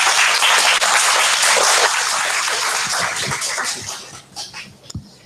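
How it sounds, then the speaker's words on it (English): Loud audience applause after a talk at a Thailand business event, dense and sustained clapping that gradually thins out toward the end, leaving a few sparse claps and small noises. "a big round of applause"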